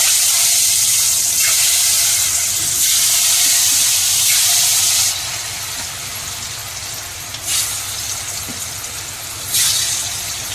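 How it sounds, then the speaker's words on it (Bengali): Oil hisses and sizzles loudly in a hot kadai as food fries, a steady close crackle that eases somewhat midway and then flares up in short bursts. "কড়াই গরম হয়ে গেছে, তেলও দিয়ে দিচ্ছি। চলো ভাজা করে নিই।"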